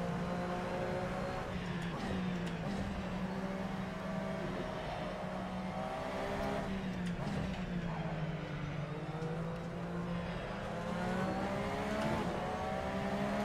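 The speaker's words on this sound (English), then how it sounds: "They've really messed up the sound of this car." A race car engine in the racing game Assetto Corsa drones steadily with shifting pitch as it revs up and down, continuous and close throughout, with a slightly synthetic tone.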